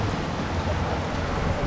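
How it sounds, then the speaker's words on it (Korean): Heavy rain pours in Cebu near the sea, a loud, steady broadband hiss with no breaks and no voices. "비가 점점 더 세지고 있어요"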